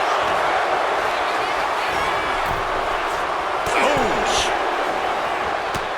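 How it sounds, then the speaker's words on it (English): A loud crowd at a lucha libre wrestling show roars continuously, with cheering and shouting swelling around a few sharp slams and smacks from the ring. "when you can't hear yourself think because the crowd's so loud"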